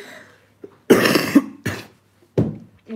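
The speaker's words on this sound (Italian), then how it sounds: "Non tossire." A person coughs several times in short, sharp bursts, with a pause between a couple of heavy coughs and a final one, close and loud with no talking.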